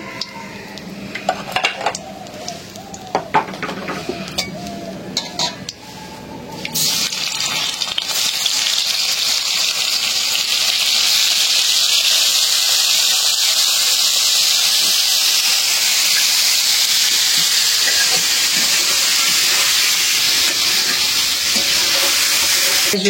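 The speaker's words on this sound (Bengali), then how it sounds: "ফুলকপিগুলি ভাজা হয়ে গেল" Cauliflower florets fry in hot oil with a steady, loud sizzling hiss that builds after a few seconds of clattering stirring against the pan, then holds continuous and close.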